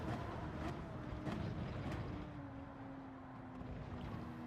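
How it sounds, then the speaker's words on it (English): Race car in Gran Turismo 7 on hard tyres engine braking down through the gears into first for the bus stop chicane, a loud steady engine roar with a sustained falling-to-level tone and sharp downshift blips early on. "Engine braking all the way down into first for the bus stop chicane."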